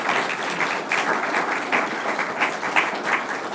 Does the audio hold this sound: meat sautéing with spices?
no